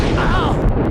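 Explosion in Max Payne, a loud close boom with a brief rumbling roar that sustains for under a second, with no voices over it.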